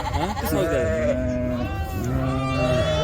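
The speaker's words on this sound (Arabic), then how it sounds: "اسمعين هاي فطيمة ولا خروف اسمعين؟" Sheep at a livestock seller's bleat loudly and close, with long wavering cries overlapping one another and filling the whole stretch.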